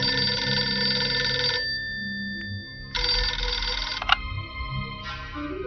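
Telephone ringing in bursts, a loud electronic ring sounding three times with pauses between, alone with no voices, used as a sound effect in a documentary about 16 December 1971.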